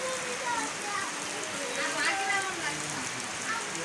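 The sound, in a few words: rain falling on people bathing in it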